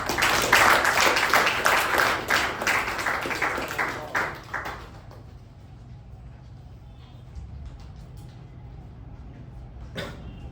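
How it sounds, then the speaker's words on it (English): Audience applause welcoming the vice president of a Toastmasters club at a club meeting, a loud full round of clapping for about five seconds that then drops away to quiet room tone. "let's welcome the VP of our club, Toastmaster Shivaprasad Sharma, with a resounding round of applause"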